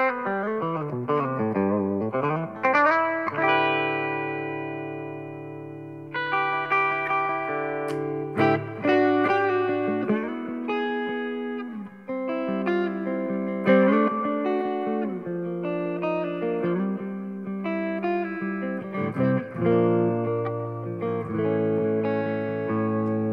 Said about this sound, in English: I'm going to the reverb range and start with a reverb really